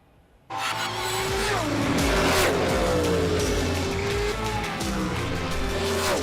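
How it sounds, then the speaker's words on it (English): Ford Mustang Challenge race cars with V8 Coyote engines at Watkins Glen roar in after a brief quiet, a loud, sustained multi-car engine din with rising and falling revs as they pass close by. "the beautiful silence here with some V8 Coyote engines"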